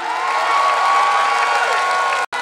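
Large crowd at a Pheu Thai party political rally in Nakhon Rangsit, Pathum Thani, clapping in a dense, sustained wave of applause that cuts off abruptly just before the end.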